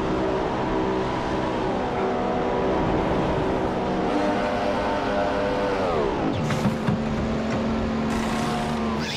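In the F1 2015 racing game, a Ferrari Formula 1 car pitting in Malaysia gives a loud, steady engine drone whose pitch falls as the car slows, followed by short sharp bursts.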